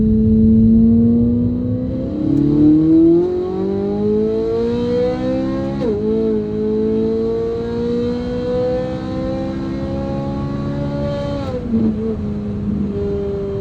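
A Corvette Z06 on nitrous pulling hard in third gear, a loud, close engine note climbing steadily in pitch for several seconds, dipping briefly at about six and twelve seconds before rising again.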